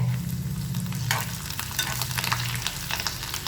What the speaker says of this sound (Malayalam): അപ്പം നമ്മുടെ വെളുത്തുള്ളിയും പച്ചമുളകൊക്കെ ഒന്ന് നന്നായിട്ട് മൂത്ത് വന്നിട്ടുണ്ട്